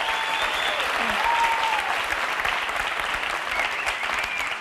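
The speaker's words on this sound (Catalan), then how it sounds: "Un fort aplaudiment aquí" A television game show studio audience claps loudly and steadily throughout, a dense continuous wash of applause with faint voices briefly audible over it.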